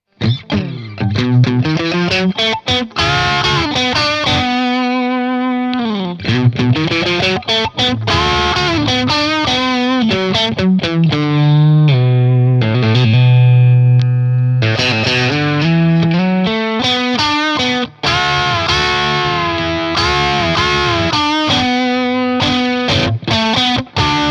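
Fender Ultra Luxe Vintage Stratocaster in pickup position 2 playing continuously for a long stretch, loud and effected, mixing chords and sliding single notes with a driven, slightly warbling tone.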